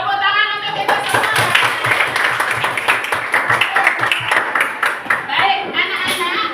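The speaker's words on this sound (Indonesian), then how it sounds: "Tepuk tangan untuk kita semua." Schoolchildren in a classroom clap their hands together in a lively, fairly loud burst that lasts several seconds, with children's voices chattering underneath.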